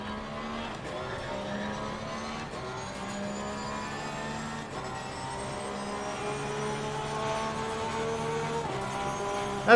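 A race car engine in the video game Assetto Corsa Competizione drones steadily with tonal exhaust harmonics, a hollow reverberant roar echoing off a nearby wall, rising slightly near the end.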